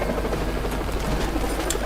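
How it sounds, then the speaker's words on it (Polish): Helicopters circle in the video game Renegade Ops, a continuous whirring rotor and engine drone holding steady with some crackling game effects on top. "Jeszcze tylko te helikoptery, które wokół mnie tutaj latają."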